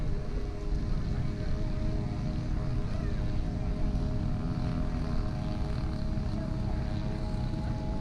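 Steady propeller drone from an Eindecker warbird taxiing after landing, a constant mid-distance engine hum with wind across the field.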